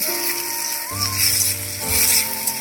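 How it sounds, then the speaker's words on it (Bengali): Steady sizzling of onions, tomatoes and fenugreek seeds frying in hot oil, with a couple of scraping stirs and a faint hum in the background. "টমেটো পেঁয়াজ আমার ভাজা হয়ে গেল"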